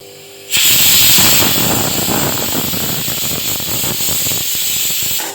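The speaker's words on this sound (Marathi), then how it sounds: "हे पण आपल्या कुकरची शिट्टी झाली आणि पूर्ण सुद्धा गेली" Pressure cooker whistle blasting steam while chicken dalcha cooks, a loud sustained hiss that starts abruptly and holds steady for about five seconds before cutting off.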